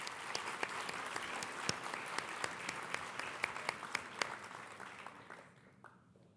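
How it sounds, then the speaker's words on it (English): Audience applause at a speaking event, quiet and somewhat distant, a dense patter of clapping with a few sharper individual claps standing out before it thins and fades away at the end. "Let's give her a round of applause"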